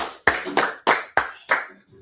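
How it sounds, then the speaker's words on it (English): Several hands clap in a quick, uneven burst of about six loud, close claps over two seconds, as a small audience at a religious gathering joins in. "clap it up"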